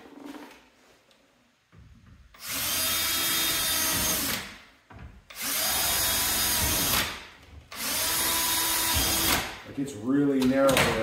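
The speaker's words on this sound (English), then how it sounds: "drill a few holes" A power drill bores holes for a KRX fender flare install in three loud, close bursts of a few seconds each, separated by short pauses, with a brief voice at the end.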